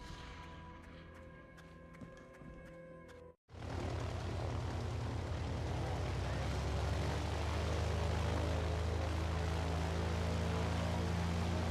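A plane in the video game Lost Horizon 2 powers up for takeoff: after a brief cutout, a loud, steady engine roar with a deep rumble sets in and swells slightly as it continues, alone without voices.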